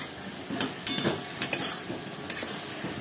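Fish being stir-fried (koshano) in a pan by a mother at a home stove, giving a quiet steady sizzle broken by a few sharp spatula scrapes and clinks against the pan.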